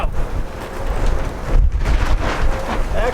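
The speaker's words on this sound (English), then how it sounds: "Woo, it's windy out." Strong wind gusting outdoors at a rear bumper build for a TROG 2022 racer, a steady broadband roar buffeting the microphone with surges throughout, no talking.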